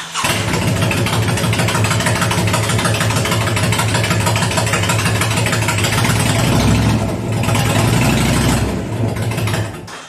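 A motorcycle fitted with a Vance & Hines full straight-pipe exhaust runs loud and close, a deep throbbing idle that holds steady for about ten seconds with a slight swell in the middle.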